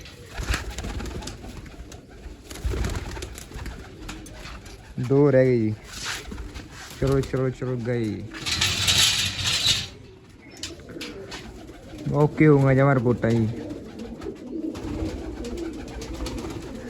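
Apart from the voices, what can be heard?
pigeons cooing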